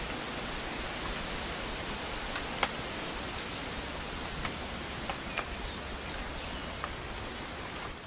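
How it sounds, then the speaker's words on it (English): Steady rain falls in the video game What Remains of Edith Finch, a dense, even hiss with occasional distinct drops tapping close by, no voices. "It's gonna rain the whole weekend"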